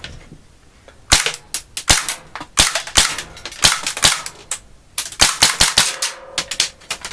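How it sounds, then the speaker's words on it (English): A compact pistol fires a series of sharp, loud shots, with a few spaced reports followed by quicker bursts of cracks and short pauses between strings, close and without speech. "And we're ready to fire."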